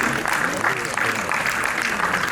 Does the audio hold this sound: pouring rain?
no